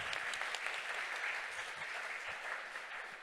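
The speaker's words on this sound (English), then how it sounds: "Big round of applause." Applause from a conference audience at an association board report, a steady wash of many hands clapping with a few whoops, fairly distant and continuous throughout.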